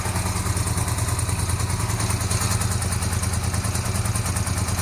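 A cafe racer motorcycle engine runs steadily after a carburetor fix, a continuous loud, close idle with a throbbing low pulse and mechanical clatter, no voices.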